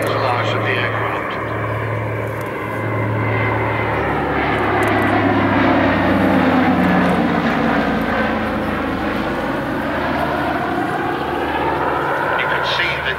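A PBY-5A Catalina flying boat drones past nearby, its propeller engine roar swelling and then fading, with a pitch shift as it goes by; someone talks over it.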